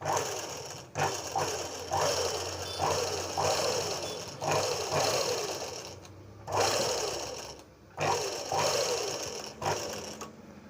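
A sewing machine stitches thread work onto a blouse neckline in repeated close bursts of rapid mechanical clatter, separated by short pauses.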